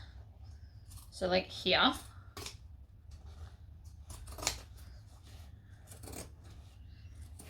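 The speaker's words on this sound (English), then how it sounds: "Now, zigzag scissors for the curvy bits." Zigzag scissors snip through fabric in a few crisp, close cutting strokes, with quieter rustling and occasional clicks around them; a person speaks briefly.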